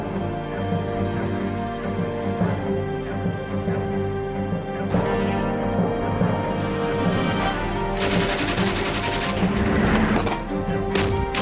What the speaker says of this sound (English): There's incoming fire right now.